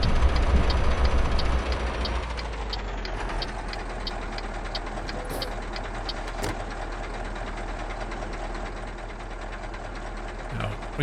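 Steady low engine drone inside a workman's truck cab in a trucking video game, a constant rumble with a slight shift in pitch after a couple of seconds, with faint ticks and no talk.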